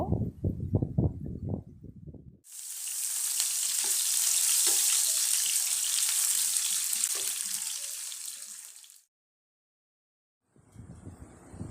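Chopped onions and garlic being stirred and fried for a lentil dish, a loud steady sizzle lasting several seconds after some brief knocks, then fading to quiet before faint stirring resumes.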